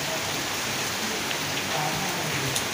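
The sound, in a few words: heavy rain pouring outside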